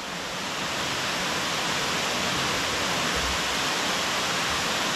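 Manasa Theertham waterfall in Andhra Pradesh, a constant broadband roar of falling water, loud and steady throughout with no pauses and no voices.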